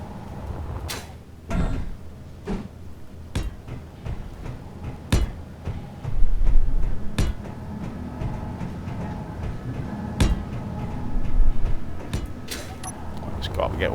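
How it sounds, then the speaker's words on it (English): Repeated sharp metallic taps and clanks from block welding in the Space Engineers game, scattered irregularly over a steady low mechanical hum, with someone talking through it. "Just got to get all these welded in."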